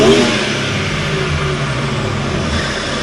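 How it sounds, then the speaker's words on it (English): BMW G87 M2 fitted with a Black Boost intake and FI full exhaust with downpipes, engine note loud and close, a sustained raspy rev holding steady without pause. "let me step on the gas to make you hear how good this car sounds with the Black Boost intake system paired with the FI exhaust"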